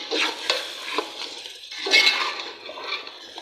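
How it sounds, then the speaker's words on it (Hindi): Aubergines frying and being stirred in an open pot, a steady sizzle broken by repeated scraping strokes of a spoon against the metal, close and fairly loud with no voices. "2 मिनट के लिए इसकी बुनाई करेंगे।"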